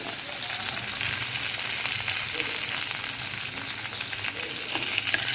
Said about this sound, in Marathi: आता हे सर्व फोडणी झाली की थोडीशी हळद टाकूया तेलामध्ये